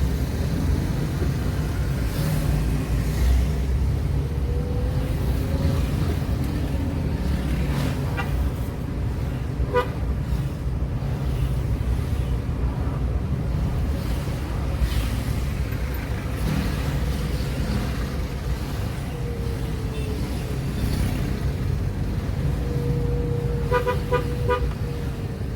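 Busy street traffic in Palembang, with a steady rumble of motorbikes and cars passing and several short horn toots sounding over the constant road noise.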